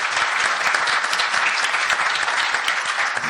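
A panel-discussion audience clapping loudly and close, a thick continuous burst of many hands with no voices, holding steady for a few seconds.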